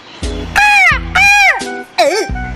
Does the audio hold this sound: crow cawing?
yes